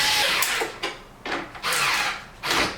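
Power drill driving screws into a carbon fiber ZL1 1LE body kit on a 6th gen Camaro SS, several short close bursts of whirring with brief pauses between, no talking.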